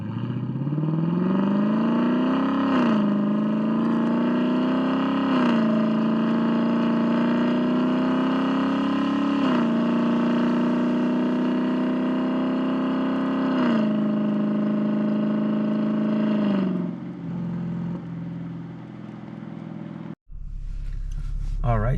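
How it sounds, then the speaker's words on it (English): Lexus LC 500 engine making slow, low-rpm upshifts, a loud steady exhaust drone that rises and dips at each gear change several seconds apart, then fades out near the end. "the first thing we're going to start off with are the slow shifts, shifting at lower RPMs."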